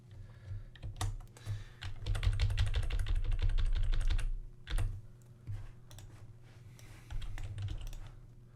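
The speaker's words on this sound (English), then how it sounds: "We're gonna hit Control X to cut" Computer keyboard keys are pressed for cut-and-paste shortcuts during a tile-swapping puzzle game, heard as dense runs of close clicks and taps with a few brief pauses and no talk.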